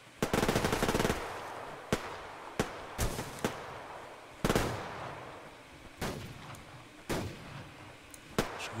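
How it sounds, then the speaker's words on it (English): Gunfire in the video game Survarium, with sharp, widely spaced shots and short bursts cracking out at irregular intervals, fairly close and loud against a quiet background. "I have the feeling I've got some bullets on my tail or in front of me"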